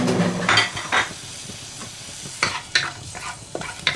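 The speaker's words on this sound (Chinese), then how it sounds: "炒出香味儿" Garlic and scallions stir-fry in a wok, a close sizzle with repeated sharp scrapes and clanks of a spatula against the metal at irregular intervals, with no talking.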